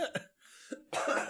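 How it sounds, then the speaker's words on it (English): Two or three sharp, close coughs in quick succession from a podcast host, followed by a louder, rougher burst of coughing or throat clearing, all heard alone without talk. "Sorry for all my coughing if you've been listening to this"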